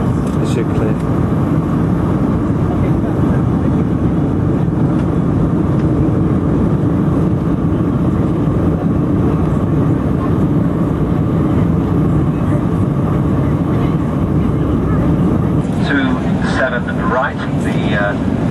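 Concorde G-BOAC on landing approach to Heathrow with undercarriage down gives a loud, unbroken cabin roar that holds steady through the whole stretch.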